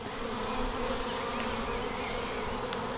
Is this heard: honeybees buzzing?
yes